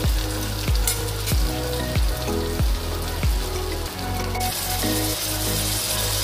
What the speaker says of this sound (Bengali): পেঁয়াজটা আমরা লাল করে ভেজে নেব